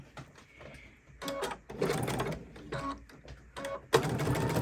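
A sewing machine stitches a quilt-as-you-go quilt in several short, close runs of rapid mechanical chatter, separated by brief pauses as the fabric is guided.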